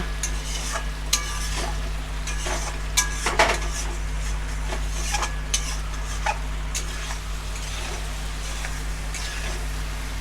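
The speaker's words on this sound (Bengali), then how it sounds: "আমি এই যে ভালো করে কষিয়ে নিচ্ছি" Masala for a fish-roe fritter curry being stir-fried with a metal spatula in a pan, repeated sharp scrapes and clinks over a low continuous sizzle.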